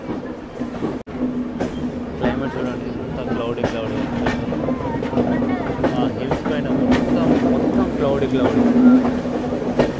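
A passenger train on the Visakhapatnam to Araku line, heard from inside a general coach, gives a steady, loud rumble and rattle on the rails. The noise builds slightly over time, and someone talks over it.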